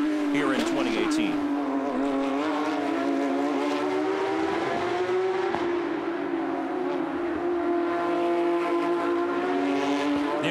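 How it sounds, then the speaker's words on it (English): Porsche GT3 Cup race car on the Toronto street circuit, a loud sustained engine wail that holds steady pitch and echoes off the concrete walls, with a commentator talking over it. "these Porsche GT3 Cup cars, here in Toronto especially, is the walls make sure that sound rattles around, and these cars sound perfect"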